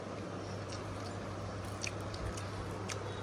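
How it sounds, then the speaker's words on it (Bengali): Someone eats fried bitter gourd, chewing steadily at close range. Soft wet mastication is broken by a few faint crunchy bites over a constant low background hum, with no talking. "তাই একটু মিক্স করে দেখছি, খাই দেখি কেমন লাগছে করলা দিয়ে।"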